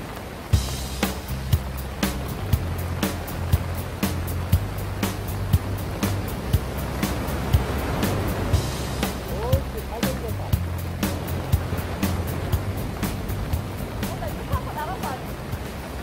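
Big ocean waves wash continuously onto an East Sea beach in a steady roaring surge. A person talks over the surf, with regular sharp clicks throughout.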